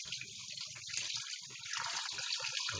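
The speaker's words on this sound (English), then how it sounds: "I'll take out the water and use water again." Water splashes and trickles off meat being rinsed for Banga soup, a continuous hissing flow with small irregular drips and patters close by, no voices.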